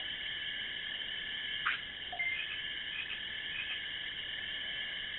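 Frog Digimon croaking in the Digimon World video game, a steady high buzzing trill that continues through the whole passage with a couple of brief blips, moderately loud and without speech.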